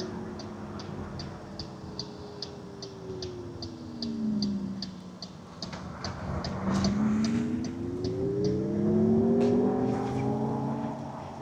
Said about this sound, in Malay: dengarlah bunyi angin kalau anda masa bawa kereta ni